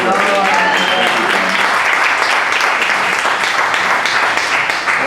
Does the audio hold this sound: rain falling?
no